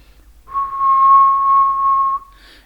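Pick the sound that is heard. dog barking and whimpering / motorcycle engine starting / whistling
whistling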